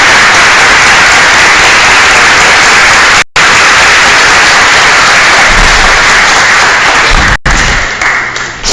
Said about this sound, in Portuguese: façamos uma salva de palmas às homenageadas